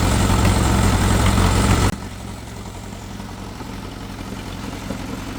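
Lawn mower engine idling loudly and close, then dropping abruptly after about two seconds to a quieter, steady low running hum with a faint vibrating pulse.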